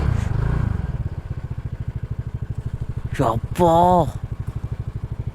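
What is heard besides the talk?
motorcycle engine sound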